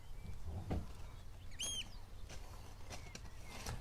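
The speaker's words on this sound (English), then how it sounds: "we've got a flyby of a oyster catcher coming here" A single faint, high piping call of an oystercatcher passes briefly overhead in flight, thin and distant against a low outdoor rumble, at Seaton Tramway.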